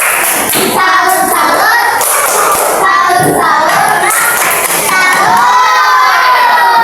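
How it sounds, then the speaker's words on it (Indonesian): A classroom of children cheers and claps loudly for group 3, with shrill overlapping shouts, rhythmic clapping and occasional thumps sustained throughout. "Tepuk tangan untuk kelompok 3"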